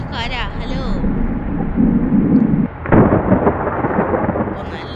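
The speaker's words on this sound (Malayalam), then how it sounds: "ഇപ്പൊ നല്ല ഇടിയെത്തും മഴയാണല്ലോ." Thunder rumbling with heavy rain in the driving game Bus Simulator India, a loud deep roll of thunder over steady rainfall, while someone talks over much of it.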